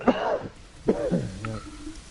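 A few rough, phlegmy coughs and throat clearing close to the mic, spread out with short pauses between them.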